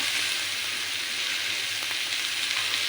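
Onions sizzle steadily in a hot pan as tomato is added, a continuous close frying hiss without breaks.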